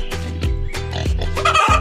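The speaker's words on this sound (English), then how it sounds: "The piglets." Piglets oink and grunt in short repeated bursts among farm animals, with a background bird-like chatter mixed in; fairly close and steady, no talk.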